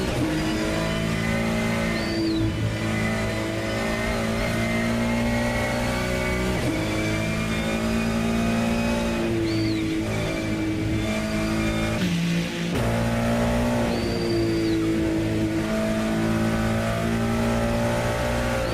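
GT3 race cars lapping Mount Panorama at Bathurst in a racing game, engines droning loudly and steadily with pitch rising and falling through gear changes and passes, occasional brief tire squeal, no talk over it.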